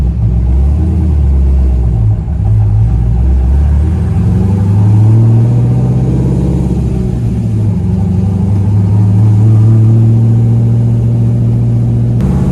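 A Chevrolet Corvette C5 fitted with a BTR stage 2 cam is being driven, its V8 giving a loud, deep, lumpy rumble that rises and falls with throttle and holds a steady low drone throughout.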